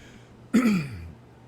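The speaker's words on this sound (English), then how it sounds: "I keep clearing my throat" A single short, gruff throat clearing close by, rising sharply and then trailing off into quiet.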